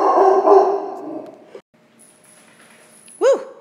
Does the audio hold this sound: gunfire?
no